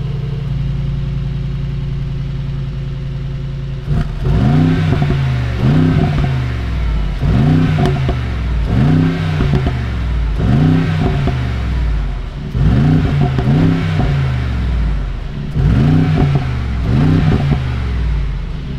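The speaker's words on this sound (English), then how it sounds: "So let me start this engine up." A 2023 Mercedes-AMG G63 engine starts after a few seconds of low background hum, then revs in a steady series of strong, rising throttle blips, loud and close, with no talking.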